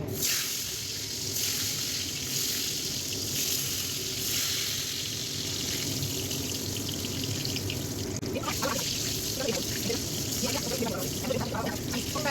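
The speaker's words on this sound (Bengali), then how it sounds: "আজকে এইভাবে বেগুন ভেজে নেবো তেল গরম হয়ে গেছে" Eggplant slices frying in hot oil in a home kitchen, a continuous hissing sizzle with watery crackle that grows busier near the end, moderately quiet and steady throughout.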